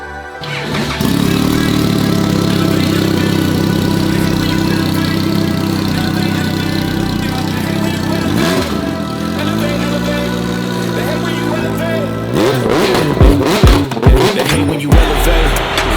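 A 400bhp motorcycle idles and revs steadily at a hill climb event, a continuous loud engine drone with shifting harmonics, then sharper blips and throttle bursts near the end.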